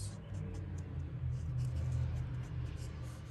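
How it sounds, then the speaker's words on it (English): Loud road traffic passing outside: a continuous low rumble of engines and tyres that swells toward the middle and stays heavy throughout, with faint clicks above and no speech. "More loud traffic."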